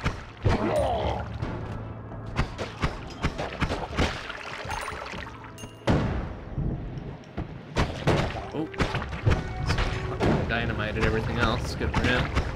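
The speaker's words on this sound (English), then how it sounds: "Whoa, something explode." A chaotic run of thuds, bangs and crashing blasts fills the 2D physics game Noita, with one sharp explosion in the middle among other bursts, while someone talks throughout.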